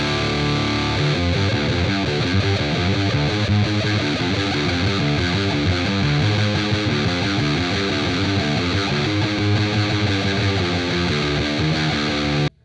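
Electric guitar played through a Danelectro Cool Cat fuzz pedal with the fuzz at noon and tone maxed, into a Freeman 100 clean amp model on a Quad Cortex, giving a dense, saturated riff that sustains loudly and steadily, then cuts off abruptly.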